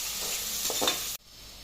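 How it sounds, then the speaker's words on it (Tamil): Onions browning in a pan for chicken biryani give a close, steady sizzle with a few stirring scrapes, then cut off abruptly. "வெங்காயத்தை வந்து கொஞ்சம் நல்லா ப்ரௌனாக நம்ம ஃப்ரை பண்ணுற மாதிரி இருக்கணும்"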